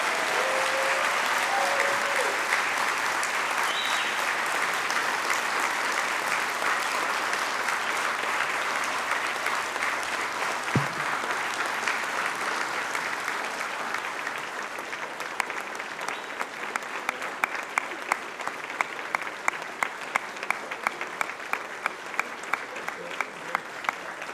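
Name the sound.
applause at banquet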